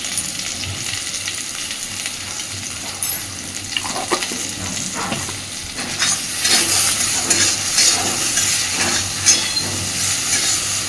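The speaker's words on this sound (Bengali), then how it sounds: "সুন্দরভাবে নেড়ে চেড়ে মিনিট 2-3 সময় নিয়ে কচুরলতিটাকে একটু ভেজে নেব" Taro stolons fry in a pan with salt and turmeric, giving a steady close sizzle with scraping stir strokes that grow busier and louder toward the end.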